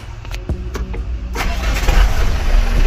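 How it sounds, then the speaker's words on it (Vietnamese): A few short cranking bursts, then a 2017 five-ton truck's engine catches and settles into a loud, steady rumbling idle close by. "Để em nổ máy cho anh em xem nhé."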